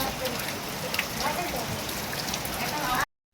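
Heavy rain falls steadily during Cyclone Montha, a dense even hiss of drops on surfaces heard from the front of a house before it cuts off abruptly.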